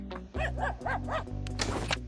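Four cartoonish dog barks in a steady rhythm sound in a flash burglar-brothers video game, close and loud over a bed of game music, followed by a brighter jingle.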